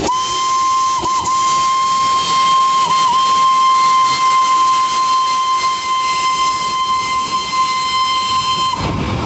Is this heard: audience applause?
no